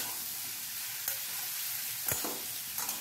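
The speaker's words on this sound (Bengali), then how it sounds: "আলু, কুমড়ো, ছোলা এগুলোকে ভালো করে ভেজে নিতে হবে।" Potato, pumpkin and chickpea pieces frying together over medium heat in a pan, giving a soft, continuous sizzle broken by a few scraping stirs of a spatula, no voices present.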